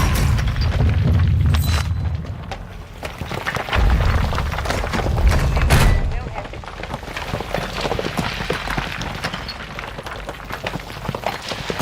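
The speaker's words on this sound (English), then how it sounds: "I just called mortars up on top" Heavy booming mortar strike explosions in Call of Duty Warzone, deep rumbling blasts rolling in over the first six seconds, then a busier, lighter clatter of battlefield noise, loud and continuous with no talk.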